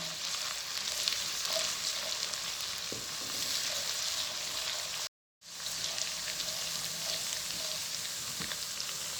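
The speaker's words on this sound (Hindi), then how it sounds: "इसको हम तकरीबन 2 मिनट भूनेंगे" Steady sizzling of garlic and ginger frying in hot oil in a pan, a continuous crackly hiss with faint pops, broken by a brief silence midway.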